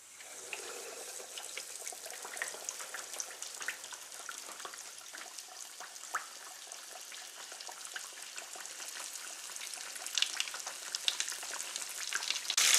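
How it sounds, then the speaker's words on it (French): Lightly salted, floured fish frying in a pan, giving a steady, dense sizzle that builds slightly louder toward the end, with no voices. "On va faire frire le poisson."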